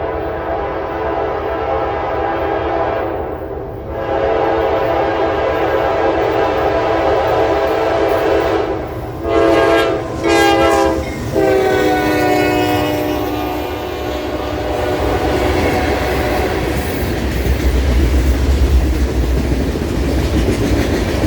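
Norfolk Southern freight NS 385, led by NS 4547 with SD70MAC WFRX 8871 trailing, passing at Sunflower, Alabama: loud multi-chime horn blasts, then growing locomotive rumble and wheel clatter as it nears.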